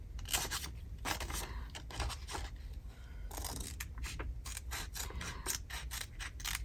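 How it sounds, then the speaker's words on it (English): Scissors snip close by through paper while cutting window pockets for a Christmas journal, making a run of crisp, rapid cuts with brief pauses and rustling between strokes. "And now I'm cutting out the windows."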